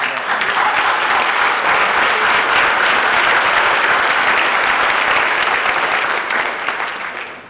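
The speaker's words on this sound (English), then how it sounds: "Let's give it a round of applause." At an awards celebration, an audience gives a loud, continuous round of applause that holds steady for several seconds before tapering off at the end.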